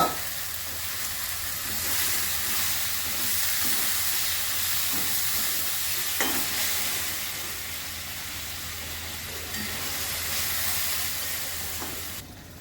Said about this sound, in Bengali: এবার ভেন্ডিগুলো দিয়ে দিচ্ছি।